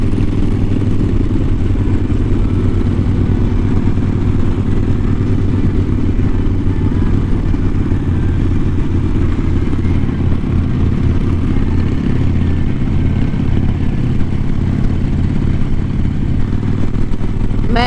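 Steady, loud engine drone and wind rush from a Harley-Davidson motorcycle cruising on a road, heard from the rider's position with a constant low rumble and no clear gear changes.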